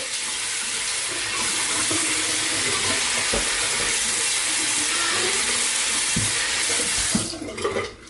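Tap water runs steadily into a sink while hair is wet down before braiding, a continuous broad hiss lasting most of the stretch and cutting off near the end.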